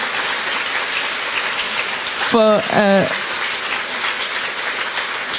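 Continuous applause from an audience, like steady patter, with a brief spoken word cutting through midway.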